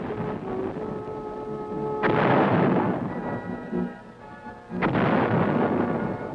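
Two heavy booming artillery shots from modern guns at the Fort Sill field artillery range, each a sudden loud blast followed by a long rumbling decay, with a steady tone running beneath the first part.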